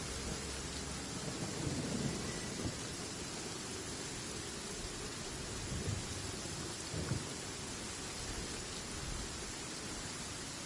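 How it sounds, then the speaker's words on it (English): Steady rain falls continuously on a courtyard in Genshin Impact, with soft rumbles of thunder rolling underneath at a few points. No voices. "I love listening to the rain from the courtyard."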